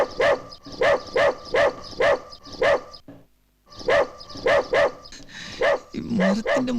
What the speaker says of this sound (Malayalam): എന്റെ പട്ടി വന്നേ